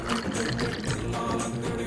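Sprite and Gold Crush soda poured into glasses, a steady close fizzing, splashing stream running for about two seconds with no talk.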